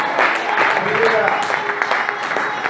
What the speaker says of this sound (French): Applaudis la Trinité pour nous.